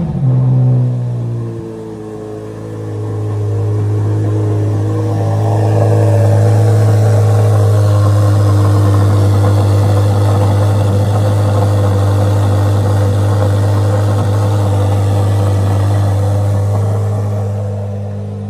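A Honda B16 engine running loud and close, rising from a steady idle into a sustained higher-revving hum that holds with strong low vibration for the rest of the stretch.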